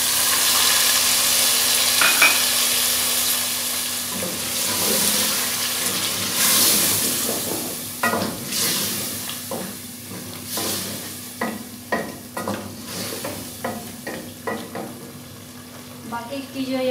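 Mutton stock poured into a pot of whole spices (black and green cardamom, bay leaf, cloves, black peppercorns) for mutton korma, with a steady close sizzle and scattered stirring scrapes and clinks, no talking.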